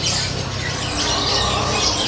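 A loud songbird calling in a steady, shrill stream of bright, rapid chatter, close by and alone.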